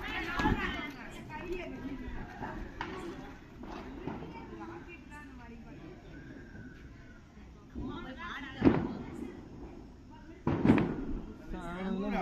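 Two sharp, loud firecracker bangs from Diwali sky shots burst out a few seconds apart over a steady background of people chattering nearby.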